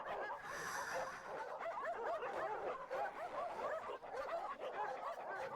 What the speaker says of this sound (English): the sounds of growls grew louder